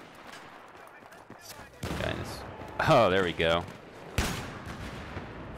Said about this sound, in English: Oh, I'm getting shot from the right.